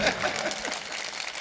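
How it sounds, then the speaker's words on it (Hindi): An audience at a mushaira poetry gathering in Gola Gokarannath gives a short round of applause. The clapping is soft and somewhat distant, a steady patter that fades slightly over about a second and a half. "इनके लिए एक बार ताली बजाएं"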